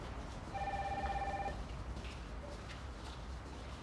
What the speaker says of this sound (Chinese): 小薇，电话。